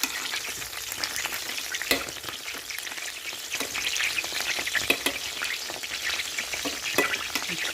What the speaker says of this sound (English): the sausages are still frying